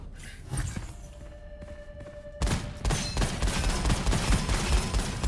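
Rapid gunfire in a video game as a player shoots at an orb, quiet thuds and clicks first, then a dense burst of shots that continues to the end, close and loud.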